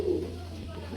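Lahori pigeon, a dun-coloured female, cooing softly at a pigeon farm, a low rolling murmur close by with a faint steady hum in the background.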